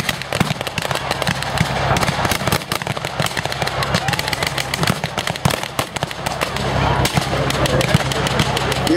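Sustained crackling gunfire and blank rounds from a WWII battle reenactment with American and German armor, including a Hetzer tank destroyer, dense rapid shots throughout, with a voice talking over it.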